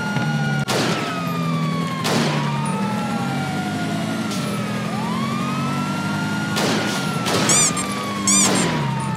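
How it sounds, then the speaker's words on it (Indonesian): In Grand Theft Auto V, sharp bursts of gunfire at a car's tires crack out in several separate volleys over a wailing siren and a droning engine, without any talking. "kita lakukan tembakan lagi"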